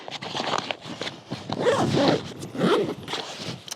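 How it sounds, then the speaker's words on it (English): A Peak Design Everyday Backpack Zip is zipped closed in several close, raspy pulls, loud and continuous over a few seconds. "I can zip it back up here"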